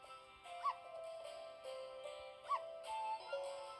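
Dog in Stray Cat Doors 2 whimpering in a few short, high, thin yelps spaced apart, set over a soft, steady tonal game backdrop.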